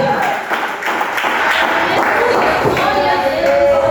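Church congregation clapping hands during a lively worship service, a steady dense patter running under a loud voice throughout.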